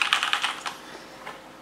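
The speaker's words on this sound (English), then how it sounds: "blue switch, so you can hear the key sound." Armaggeddon Stealth Raptor MKA-7 mechanical keyboard with blue switches being typed on, a quick run of sharp, close clicks at the start that thins to a few scattered keystrokes, with no talking.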